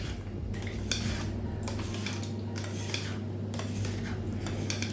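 Plain 3.2% fat yogurt without sugar or additives is stirred by hand in a bowl for a diet salad, giving repeated soft scraping and clinking strokes of a utensil in a steady rhythm over a low background hum.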